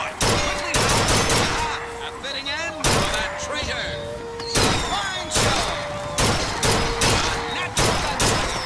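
Gunfire in BioShock Infinite's shooting gallery: repeated loud bursts of rapid shots in clusters, separated by short gaps, with game sounds and a voice in between.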